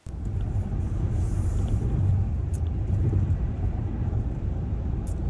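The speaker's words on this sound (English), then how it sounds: "I am driving in the car, as you can tell." Steady low road rumble inside a moving car on an April day, continuous engine and tyre drone filling the cabin at even loudness with no talk.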